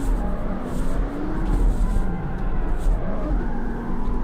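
A car drifts in the CarX Street video game, its engine droning steadily with pitch shifting up and down as it slides through a long drift, with no one speaking.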